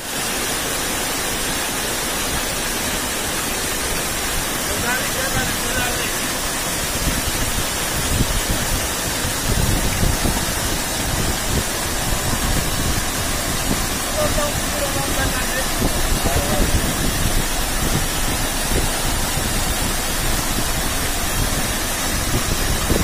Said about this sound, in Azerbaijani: Qalaça kəndində şəlalə meşanın ortasında